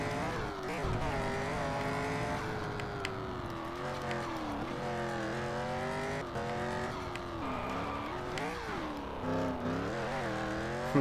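Rally car engine from DiRT 2 on PSP, revving steadily through gear changes with rising and falling pitch, continuous and loud throughout, with occasional tire noise and no talking.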